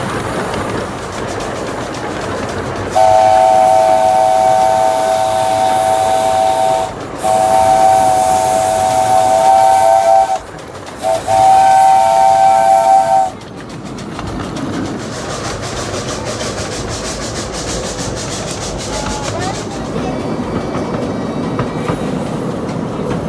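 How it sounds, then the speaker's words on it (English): Steam locomotive Number 2 at the Hesston Steam Museum sounds a loud, sustained whistle in three long blasts, then rolls into the station with steady hissing steam and rumbling cars. "And now the train has returned to its normal speed as it pulls into the station."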